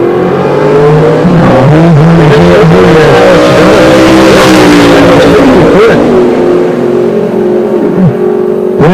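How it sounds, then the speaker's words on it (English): Duramax diesel Chevelle drag car launching down the strip at a Midwest drag race, a very loud close engine roar with rising and shifting revs and a brief dip between gears, with no talk. "See if the left lane will be kinder to that launch on that Duramax Chevelle."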